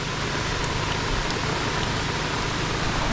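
Heavy monsoon rain pours down in a dense, steady roar, loud and unbroken across the whole stretch with no voices.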